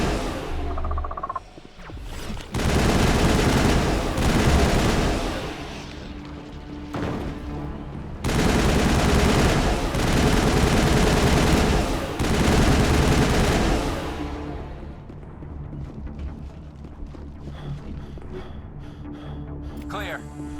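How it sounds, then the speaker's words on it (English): Heavy turret gunfire in the Mass Effect video game, long sustained bursts of rapid shots with booming impacts, broken by short pauses, with voices heard between volleys. "That turret could punch some nasty holes."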